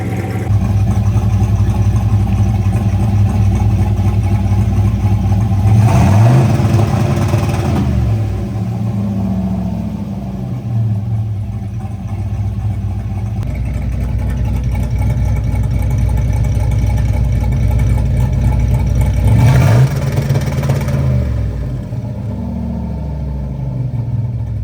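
A turbocharged 5.3 pickup truck with a 2-step launch limiter set near 3,300 RPM revs hard twice against the limiter, each loud burst rising then dropping back to a steady, rumbling idle in between.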